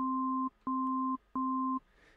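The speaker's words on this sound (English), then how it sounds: "created an easy setup with two different sine waves" Two steady sine tones, one low and one an octave-ish higher, sound together in three sustained bursts of about half a second each with short gaps, clean and electronic with no voices.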